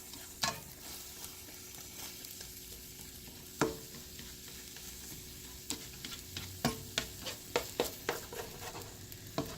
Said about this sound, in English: so I'm going to stir it up, kind of reintroduce that vegetable stock